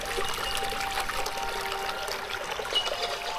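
Clear stream water trickles over boulders in the Australian wilderness, making a continuous, even, bright babble heard up close with nothing else over it.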